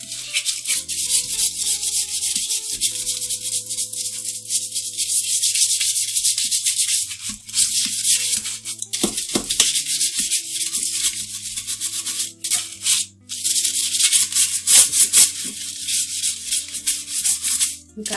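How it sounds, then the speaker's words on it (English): A brush scrubs a toilet bowl with a loud, continuous bristly hiss and rubbing, broken by short pauses and a few bumps against the porcelain. "we are just going to start scrubbing with our brush"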